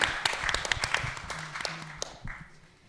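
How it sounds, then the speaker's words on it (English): Audience applause at a symposium on Blackness, gender and sexual violence: a short burst of scattered hand claps, moderately loud, thinning out and fading toward the end. "Round of applause."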